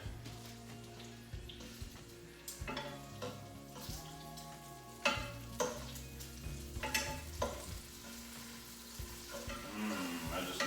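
Bacon fries in a pan for breakfast tacos, with a quiet, continuous sizzle punctuated by scattered clinks and stirring knocks.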